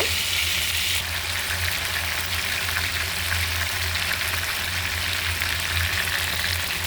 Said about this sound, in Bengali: মাছগুলো এখন আমি উল্টিয়ে দিব।